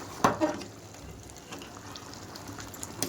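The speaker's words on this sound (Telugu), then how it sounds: "ఇలా చూడండి ఉడుకుతుంది ఒకసారి కలుపుకుందాం" Pulao rice with coriander and mint boils in a pot while a spoon stirs it, giving a couple of quick knocks near the start over a low, steady bubbling.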